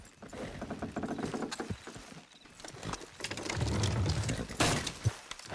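Horse hooves clip-clop steadily at a walking pace in Red Dead Redemption 2, close and fairly loud, with rustling and occasional thuds mixed in and brief voices nearby.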